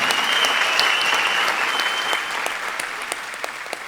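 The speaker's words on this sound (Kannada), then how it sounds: "ಜೋರ ಚಪ್ಪಾಳೆ" Loud, steady applause from a concert audience greets a female flute player, a dense crowd clapping that carries on for several seconds and eases off slightly toward the end.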